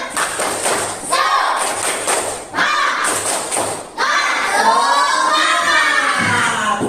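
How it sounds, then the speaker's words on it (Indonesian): Classroom students perform a rhythmic spirit clap in patterned bursts of claps and thumps, with children's voices shouting along between and over the beats. "Tepuk semangat dulu ah."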